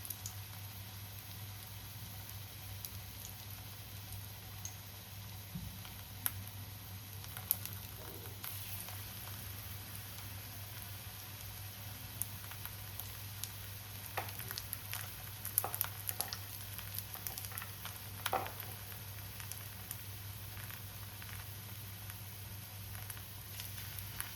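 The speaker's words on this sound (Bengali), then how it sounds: "এই এরকম সাইজ করছি, ছেড়ে দিলাম গরম তেলে।" Cauliflower pieces, cut small, frying in hot oil: a steady low sizzle and patter running throughout, with a few brief louder crackles and bubbling bursts, fairly quiet and heard alone without talk.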